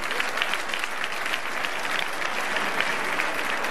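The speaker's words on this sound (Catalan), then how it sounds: "Gràcies i un fort aplaudiment." An audience applauds warmly at an outdoor fashion show during an olive oil and asparagus fair in Godall, steady dense clapping from a moderate distance with faint voices.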